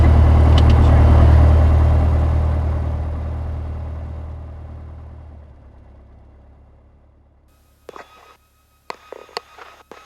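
A Piper Warrior aircraft engine idling at 1,000 RPM, a deep steady drone that gradually fades away, followed by a few sharp clicks near the end.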